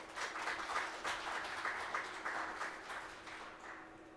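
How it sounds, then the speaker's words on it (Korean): An audience claps in sustained applause, a dense steady patter that fades slightly toward the end. "큰 박수로 맞이해 주시기 바랍니다."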